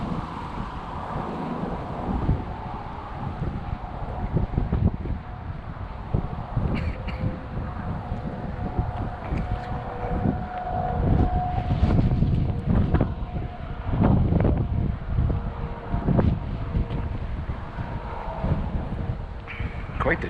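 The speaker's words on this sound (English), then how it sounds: "It's pretty windy out" Wind at a lake in a nature preserve in November, gusting and buffeting the microphone in low rumbling waves throughout, with some voice underneath.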